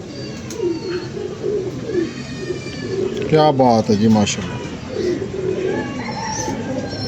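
Pigeons coo in a loft, rolling low calls repeating under and between a man's speech, with one louder burst of coos in the middle.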